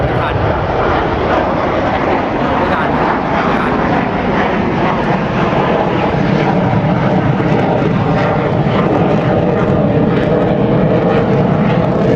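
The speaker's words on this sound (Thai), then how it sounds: "เนี่ยแลนดิ้งสองลำจริงด้วย" A loud, continuous roar of Chengdu J-10 fighter jets fills the air at an air force show, heard from the ground as a pair comes in to land.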